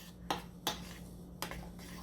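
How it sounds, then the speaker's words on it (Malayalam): A spoon mixes chicken marinade in a bowl, giving three crisp, separate clinks against the side, quiet and spaced apart over a low steady hum. "ഒരു സ്പൂൺ വെച്ചിട്ടോ അല്ലെങ്കിൽ നമ്മുടെ കൈ കൊണ്ടോ എങ്ങനെ വേണമെങ്കിലും നമുക്ക് മിക്സ് ചെയ്യാം."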